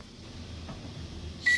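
An oven control panel gives a single short, clear electronic beep at the very end while preheat is being set for a frozen pizza, over a quiet room hum.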